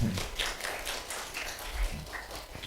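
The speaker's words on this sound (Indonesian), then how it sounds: "kita beri aplaus buat Ale lah ya" A class breaks into a short round of scattered clapping for a student's question, the claps coming as quick, uneven bursts mixed with a voice talking over them.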